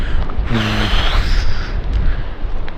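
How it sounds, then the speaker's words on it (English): A deep, rushing whoosh of water and air surging from an ocean blowhole in rocks, with a brief hollow tone, over constant low wind and surf rumble. "that's the sound of a blowhole"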